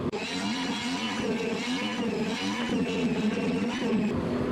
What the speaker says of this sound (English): I'm gonna take my palm sander and go over the whole thing real good